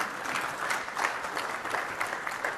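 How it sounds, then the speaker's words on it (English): An audience at a Microsoft Ignite 2015 conference session applauds in a steady patter of many hands clapping, moderately loud and continuous for a few seconds, with no voices over it. "Hey, somebody was clapping."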